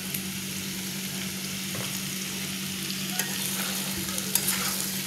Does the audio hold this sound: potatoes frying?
yes